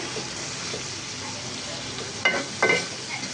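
Shrimp frying in a pan give off a steady soft sizzle, with two short scraping stirs near the end and no speech.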